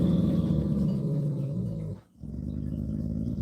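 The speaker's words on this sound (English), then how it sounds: "What are you even fucking barking at? Oh. Some random dog." A dog growling low and steadily at close range, a rumbling continuous sound that breaks off briefly before resuming.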